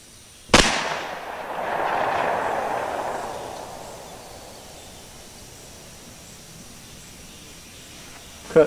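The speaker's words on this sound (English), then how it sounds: "we're going to try the Remington 180 grain bullet through the 5-inch Smith & Wesson" A single loud gunshot from a 5-inch Smith & Wesson revolver firing a Remington 180 grain bullet, a sharp crack followed by a rolling outdoor echo that fades over several seconds, with another sharp report at the very end.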